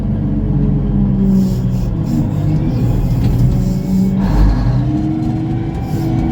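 A rare Canadian-American Steiger tractor with an old flathead engine pulls away, its deep engine rumbling loud and close with slight swells in power.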